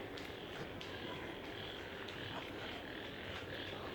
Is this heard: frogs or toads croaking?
yes